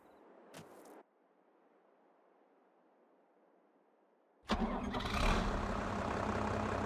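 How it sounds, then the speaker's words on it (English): Vehicle engine in a farming simulator game, first idling as a faint steady rumble, then suddenly roaring loud and broadband after a short burst near the start, staying loud and continuous to the end, with no talking. "How do I turn the engine off?"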